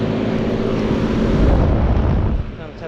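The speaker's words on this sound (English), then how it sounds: "2005 Trane XB starting up and running" A 2005 Trane XB13 four-ton residential air conditioner with a reciprocating compressor starts up and runs outdoors, a loud steady broadband hum and rumble that eases slightly near the end.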